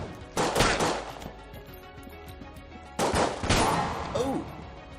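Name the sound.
1911 pistol gunfire in the video game Enter the Gungeon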